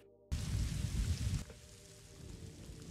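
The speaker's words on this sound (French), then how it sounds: "on l'entend justement, on entend la pluie" Rain falling in a Better Call Saul scene, a dense, steady downpour that starts abruptly, rushes loudly for about a second, then drops to a softer continuous patter.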